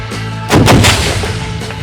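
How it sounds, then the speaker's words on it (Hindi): A sniper rifle fired at a target by Pakistan Navy SSG commandos at sea: one loud, sharp shot bursts out close by, followed by a booming echo that rolls away and decays over the following second. "और फिर स्नाइपर टारगेट को फायर करता है"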